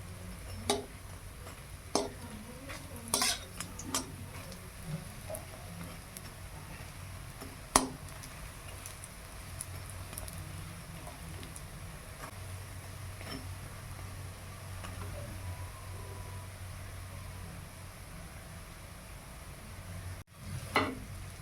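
Bitter gourd fritters sizzle quietly and steadily in oil over a low hum, with occasional clinks of a utensil against the pan.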